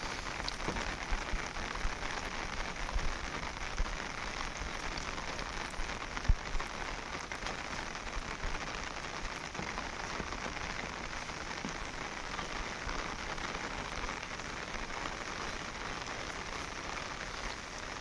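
Heavy rain pours steadily over village farmland, a dense, unbroken patter of drops on surfaces with no voices, holding at the same level throughout.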